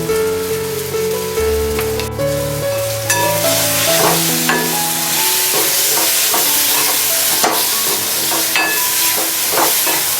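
Onion and coconut masala for egg curry is stirred and sautéed with salt in a hot pan. A lively frying sizzle runs under repeated scraping and clinking of a spoon against the pan, with no talking.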